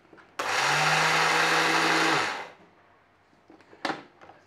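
A kitchen blender whirs loudly and steadily for about two seconds as it grinds oats for a Yorkshire parkin cake, then winds down, followed by a brief clatter.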